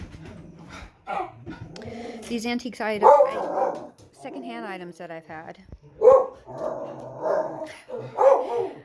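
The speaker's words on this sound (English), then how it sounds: "there goes the neighbor's dog" A neighbor's dog barks several times in the distance. The short barks are scattered under and between a woman's close, steady talking indoors.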